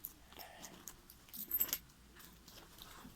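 Coins jingle and clink as they are dropped into a Turkish Airlines travel bag, a series of small metallic rattles close by, with no talking.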